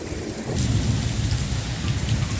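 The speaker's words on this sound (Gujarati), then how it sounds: "કડાકા અને ભડાકા સાથે કુદરતી બેટિંગ ચાલુ થઈ ગયું છે" Heavy monsoon rain pours steadily on a farm with a deep, rolling rumble of thunder throughout, loud and continuous with no voices.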